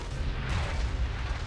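Cannon fire rumbles through a battle in Empire Total War, with enemy guns pounding a fortified wall on the Swedish front; a dense, continuous low booming wash with no distinct separate shots, steady throughout.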